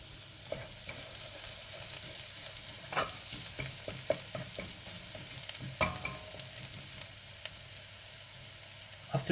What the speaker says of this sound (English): In your cooking pot, put a piece of butter and fry garlic